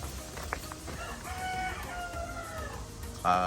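Sweater straight comb gamefowl rooster in a backyard breeding yard, a short crow rising and falling over a second or so, then a sharper call at the end, close over low background noise.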